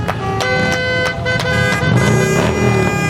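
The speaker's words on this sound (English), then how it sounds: "Yeah, get those horns going." Car horns honk repeatedly and loudly at a small-town irrigation festival parade, overlapping toots with engine rumble underneath and no talking.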